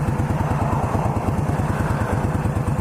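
A new motorcycle's engine running on its first ride, a loud, steady, rapid low-pitched thumping pulse with mechanical clatter, close and continuous without any talk.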